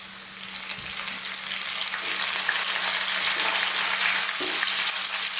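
Fresh curry leaves hitting hot oil, a loud steady sizzle and crackle that holds evenly throughout, close up with no talking.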